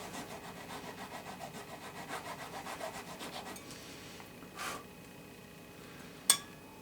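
A 26 thousandths nut file rasps back and forth in the D string slot of a Squier Stratocaster's nut, quiet rhythmic close strokes for a few seconds, then a pause with a brief scrape and a sharp tap.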